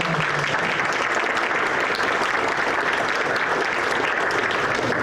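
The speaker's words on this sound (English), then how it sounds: "let's give them a round of applause" Teachers receive a sustained, dense wave of applause from the audience at a public school board of education meeting, steady and full for the whole stretch with no voices rising above it.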